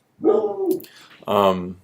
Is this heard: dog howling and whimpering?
yes